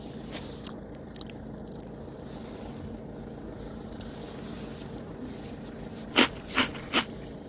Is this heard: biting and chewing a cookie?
yes